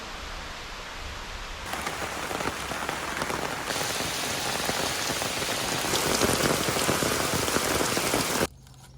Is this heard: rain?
yes